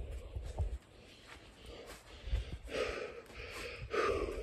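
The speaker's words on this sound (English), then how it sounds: "Sorry, guys, about my breathing." Heavy, labored breathing from a person who has been left short of breath after a rollover accident months earlier, close to the microphone, with irregular snorting gasps and breaths over a quiet background.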